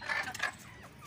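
Misri hens and a rooster cluck in a short continuous burst, fairly close and busy, with no talking over it.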